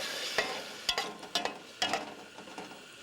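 Tomatoes cooking in a pot give a soft sizzle broken by several sharp clattering stir strikes about half a second apart, close and moderately loud.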